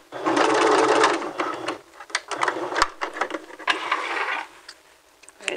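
A home sewing machine back stitches a dress seam from a McCall's 7430 pattern, running in a steady close whir for about two seconds, then giving short stop-and-start bursts and light mechanical clicks.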